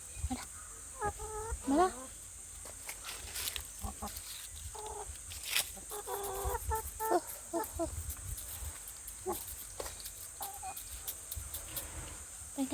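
Hens and chicks, let loose, cluck in short, repeated bursts across a busy outdoor yard, with occasional voices mixed in.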